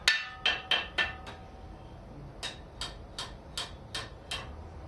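A hammer rings on hot iron against the curved edge of an anvil while a wall hook is forged, with sharp, evenly spaced metallic strikes in two bursts of roughly five and seven blows, the later ones softer.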